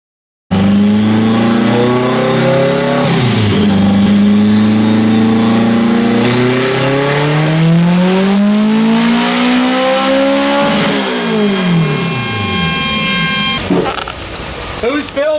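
Turbocharged stick-shift car, a Fox Body Mustang or K-swapped Civic, revving hard on a dyno: loud, close engine climbing through several gears in rising pitch sweeps, with brief drops at each shift.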